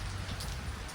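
Heavy rain pours down steadily in rural Punjab, a dense, loud, continuous hiss of drops with no break and no voices.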